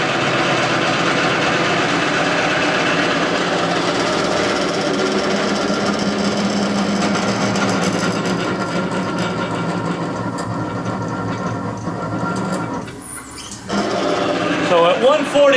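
A Falex oil testing machine runs under load, making a steady, loud mechanical drone and whine that dips briefly near the end before resuming, with a voice talking over it.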